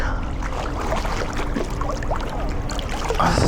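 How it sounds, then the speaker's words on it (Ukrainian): Continuous low engine drone of a motor boat heading out from a sea shore, mixed with splashing water and wind, steady throughout with no talk. "катер виїжджає, напевно, десь на рибалку"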